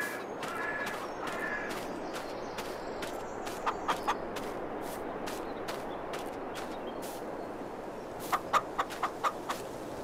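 Chickens in a Farming Simulator 22 farmyard give sharp, repeated clucks and squawks in irregular bursts, clustering near the start and again near the end over a faint steady background.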